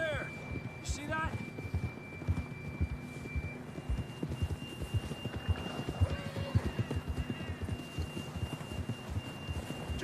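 Horse hooves clip-clopping at a steady trot in the Western video game Red Dead Redemption, repeated rhythmic thuds under game voices, music and a constant high tone, moderately loud throughout.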